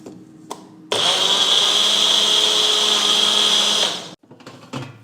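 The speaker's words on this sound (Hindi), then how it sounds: "थोड़ा सा लो फैट मिल्क डालिए और फिर ब्लेंड कर लीजिए।" A blender whirs loudly for about three seconds, churning frozen banana, papaya and low fat milk, its motor starting abruptly and stopping sharply, with quiet clinks before and after.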